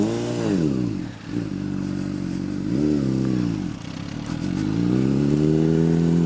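Honda CBR 600 RR motorcycle engine ridden on a wooded trail, loud and close, with rising and falling revs as the rider accelerates and eases off, and a steady roar near the end.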